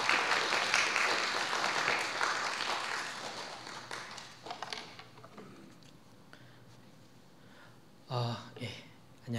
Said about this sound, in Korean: 우리 목사님 박수로 환영하겠습니다